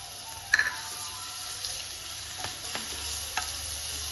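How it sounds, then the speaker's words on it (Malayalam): Ginger-garlic paste dropped into two or three spoons of hot oil in a pan, giving a brief crackling burst and then a soft, steady sizzle with a few faint clicks of stirring and no talking. "ഇതിലേക്ക് രണ്ട് മൂന്ന് സ്പൂണ് ഓയിൽ വെച്ചു കൊടുക്കാം അപ്പൊ ഇതിലേക്ക് ഒരു ഇഞ്ചി വെളുത്തുള്ളി ഒരു സ്പൂൺ ഇട്ട് കൊടുക്കാം"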